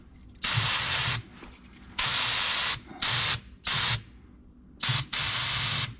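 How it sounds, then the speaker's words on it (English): Repeated hissing bursts of an aerosol cleaner sprayed onto the idler sprocket of a small skid steer, six or so close, loud sprays of varying length separated by short pauses. "Spray some dirt be gone in there."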